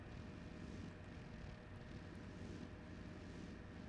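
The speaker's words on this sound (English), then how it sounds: "Kind of straining that engine, but it is doing it." A vehicle engine in the tank-design game Sprocket drones in a dense, continuous roar as it labours up a slope, steady and loud without breaks, no voices over it.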